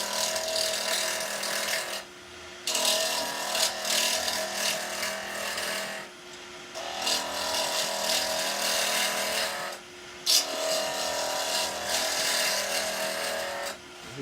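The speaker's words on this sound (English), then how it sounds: "I'm going to use a very small bowl gouge initially, little 6mm bowl gouge." A small 6mm bowl gouge lightly takes waste off a wooden pen blank spinning on a lathe, giving a steady scraping hiss in long passes broken by brief pauses, with no talking.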